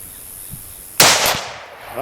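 A single sharp crack from a CZ-527 rifle in 7.62x39 fired outdoors at a range, loud and close, followed by a short decaying echo.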